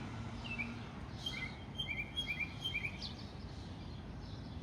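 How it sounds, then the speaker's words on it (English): A bird sings a few short chirping phrases at a distance, faint over steady outdoor background noise. "like that beautiful bird right there."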